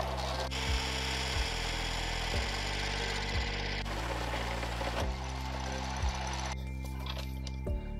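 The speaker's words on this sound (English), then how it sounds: "This one, I'm gonna use the lathe." A lathe turns while machining an axle wheel spacer for a Derbi e-bike. A steady, rumbling mechanical drone runs throughout with a broad whirring hiss on top and a faint rhythmic thump about once a second.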